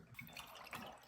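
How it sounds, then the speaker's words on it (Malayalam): Water poured into a container while making mint lemon ice cubes with sugar, a short splashing trickle heard close up on its own. "ഇനി കുറച്ച് വെള്ളം ഒഴിക്കും."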